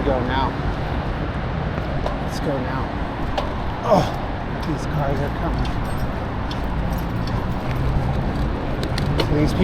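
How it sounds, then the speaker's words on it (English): Cars roll through street traffic near a freeway entrance in Santa Ana, heard from a bicycle as a steady roadway rumble with occasional nearer passes, while people talk over it. "Oh, these cars are coming."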